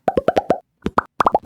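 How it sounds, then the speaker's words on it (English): Mouth-made popping button sounds for an indie video game, a quick run of close, bubbly plops in two bursts with a short pause between them, clean and alone. "It sounds a bit like bubbles popping."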